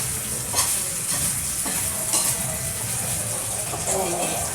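Hotdogs fry in hot cooking oil in a home kitchen, a steady close sizzle with scattered pops and spatters throughout.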